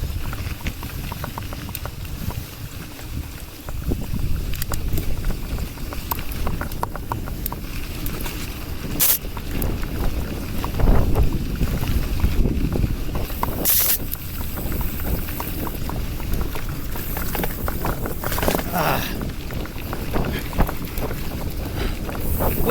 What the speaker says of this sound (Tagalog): Yung hangin nasa side, wala sa harap, kaya masarap padyakan.